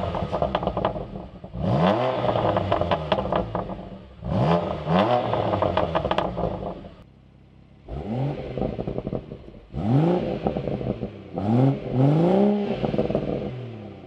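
Two BMW inline-sixes, an M2 Competition's S55 and an M140i's B58, rev repeatedly in bursts, each rising sharply then falling back, with brief quieter pauses between blips; no talking.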